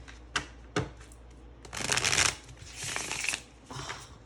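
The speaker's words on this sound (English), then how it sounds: "this cardstock's like so bendy and it's matte and it has a beautiful sound when you" A bendy matte cardstock Llewellyn tarot deck being shuffled, two sharp riffle snaps followed by longer bursts of soft, crisp card flutter, close and quiet with no talking.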